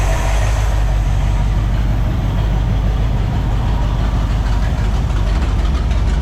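A 1964 Pontiac Catalina barn-find engine, warmed up after more than thirty years off the road, holds a steady high idle, a loud, continuous low rumble that stays close and even throughout, with no talk over it.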